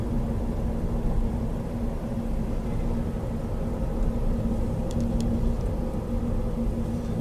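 A Toyota Auris hybrid running on battery power at about 50 km/h gives an even, continuous low rumble of tyres and road noise in the cabin, with no engine surges and a faint tick or two.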